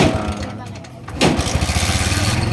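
A tricycle's small engine, just repaired with a new timing chain and chain guide, runs with a steady rapid putter after a rise in revs, close by and loud, with people talking over it.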